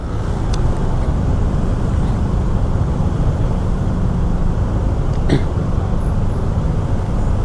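Heavy traffic jam of cars and motorbikes on a road in Bali, a constant loud engine rumble and road roar with a couple of brief sharp clicks, and no voices.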